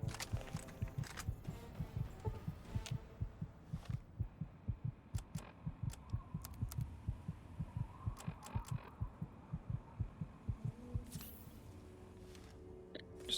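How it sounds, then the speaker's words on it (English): A video game heartbeat from Fallout 3 thumps steadily in low, regular double pulses throughout, with a soft hum underneath and no talking. "Just to make the heartbeat go away."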